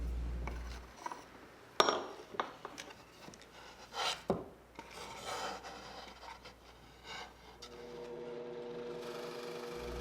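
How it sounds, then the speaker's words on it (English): A hand reamer is twisted to enlarge a drilled hole in wood for a wall clock: several short scraping, grinding bursts with pauses between them, fairly quiet and close, and no talking. "Then a few twists from the reamer to get a good fit."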